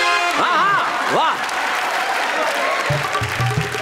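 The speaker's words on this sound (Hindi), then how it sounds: "तालियां बजाइए" Studio audience applause on a Hindi comedy poetry show, a steady patter of clapping under a host's excited talk and bursts of laughter, with musical notes near the end.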